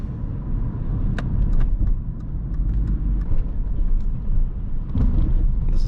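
An Alfa Romeo 159 1.9 JTDm 150 hp diesel cruising on an extra-urban road in a high gear, heard from inside as a steady low engine and road rumble with occasional light knocks from a bumpy surface.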